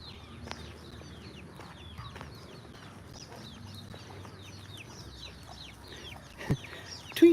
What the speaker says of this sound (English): There's a little chicken family here.